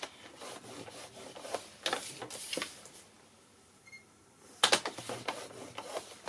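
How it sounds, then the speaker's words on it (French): Paper being creased and bevelled by hand for a mini scrapbook album, giving soft rubbing and scraping strokes in short bursts, with a sharp, louder rasp near the end, close and without talk. "je viens marquer mes plis et biseauter"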